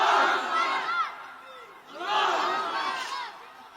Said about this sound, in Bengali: আল্লাহু আকবার জোরে বলেন তো